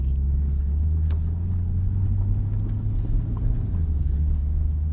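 A 2020 Chevrolet Corvette Stingray C8 coupe engine hums with a low, steady rumble while driving on backroads, a deep continuous drone with slight variations and light road noise.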